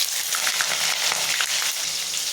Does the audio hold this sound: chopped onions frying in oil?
yes